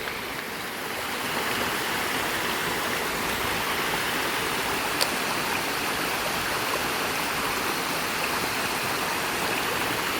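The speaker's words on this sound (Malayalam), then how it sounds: "കറക്റ്റ് ആ വെള്ളം ഒഴുകുന്നതിൻ്റെ സൗണ്ട് കൂടി കേൾക്കുന്നുണ്ടല്ലോ അല്ലേ." Water pours steadily down the stepped spillway of Poomala Dam, a dense, continuous rushing roar close by that swells slightly after the first second and holds unbroken with no voices.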